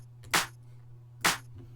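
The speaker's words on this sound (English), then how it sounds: "So beach clap, big clap, then a commercial clap, which altogether sounds like this" A layered snare sample built from three stacked claps (beach, big and commercial) hits twice, evenly spaced, each a bright, sharp burst with a short tail over a faint low hum.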